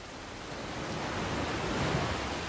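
Water ambience in The Last of Us Part II: a dense, steady wash of rushing water like surf or a nearby stream, broad and constant, swelling slightly louder over a few seconds with no voices.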